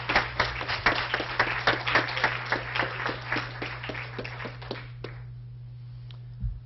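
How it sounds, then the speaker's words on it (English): An audience at a science colloquium claps, with a series of distinct claps close together that thin out and stop after about five seconds, leaving quiet room noise. "the round of applause right now would be very appropriate"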